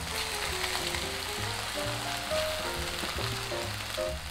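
Pork slices and onion frying in a hot pan for Japanese ginger pork, a steady, loud, close sizzle that crackles without pause throughout.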